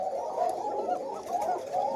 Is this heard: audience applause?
no